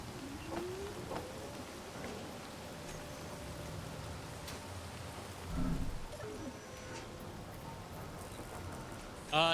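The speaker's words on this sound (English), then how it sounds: "And it is currently raining." Steady rain falls across a planet in the space-survival game Space Engineers, a continuous soft patter that holds throughout, with a brief low rumble near the middle and a sharp burst at the end.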